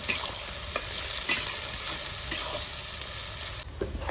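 Sliced onions fry in oil for a rohu fish korma and get stirred in the pan. A constant close sizzle carries periodic scraping strokes of the spoon against the pan, and no one speaks.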